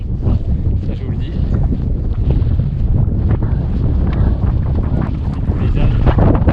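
Strong desert wind buffets the microphone during the Marathon des Sables, a loud, steady low roar with gusty rumbling throughout, no voices standing out.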